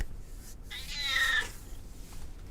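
A cat gives a single clear, fairly close meow in the middle, a drawn-out tonal cry rising and falling over quiet room background, with no talking.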